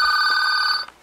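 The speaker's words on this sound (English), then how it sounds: "And the phone's ringing." A telephone bell rings loudly in a small shop, one steady sustained ring lasting most of the moment before cutting off, with no talking over it.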